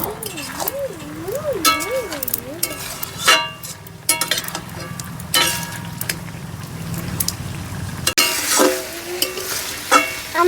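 A spoon stirs a vegetable curry in a sizzling pan in a home kitchen, with clinks and scraping strokes over frying hiss, while people talk and a child sings nearby.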